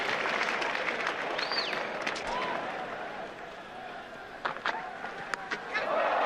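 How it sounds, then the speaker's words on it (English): A cricket crowd at a test match between India and the West Indies stands and applauds, a broad, steady wash of clapping and cheering that holds throughout, with a commentator talking over it. "The crowd stands and applauds"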